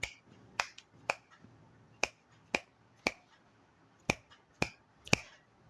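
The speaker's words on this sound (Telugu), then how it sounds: "ఒక చిటిక వేసాం" Sharp finger snaps ring out one after another, about eight or nine in a steady, slightly uneven rhythm, each crisp and close against a quiet room.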